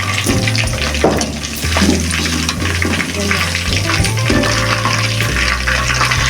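Chicken pakora frying in hot oil while pieces are lifted out, a busy continuous sizzle with clinks and splashes, loud and close, with occasional background voices.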